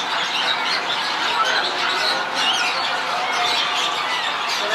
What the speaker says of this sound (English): These are just birds, so. Parrots.